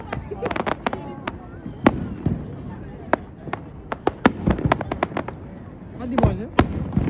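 Fireworks bursting at the end of summer and the boating season, sharp cracks and booms popping irregularly throughout, some close and loud, others softer, with people talking in the background.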